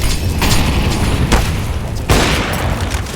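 Grenade blasts in CS:GO during a pro North versus Cr4zy match at the 2019 StarLadder Berlin Major: two loud, sharp bursts about a second apart over steady in-game background noise.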